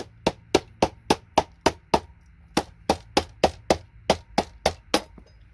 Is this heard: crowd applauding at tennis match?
no